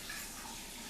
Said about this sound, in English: I'll just transfer the liquid, the kombucha, into this container